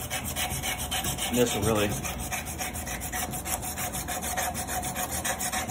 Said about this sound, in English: I got a piece of emery cloth here. It's 150 grit. I'm just gonna start going at this.